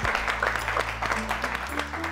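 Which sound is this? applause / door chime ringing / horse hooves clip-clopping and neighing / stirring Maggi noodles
applause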